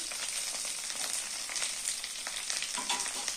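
Chilli paneer ingredients frying in a pan, a dense, even sizzle at moderate level, steady with no voices.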